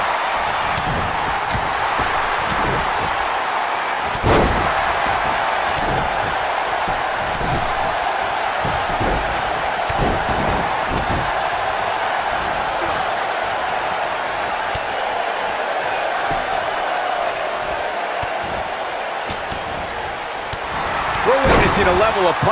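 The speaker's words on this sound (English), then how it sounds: "Just an unforgiving slam." A wrestling body slam in a video game match hits hard over a steady arena crowd roar, with several sharp impacts scattered through the din and an announcer talking over it.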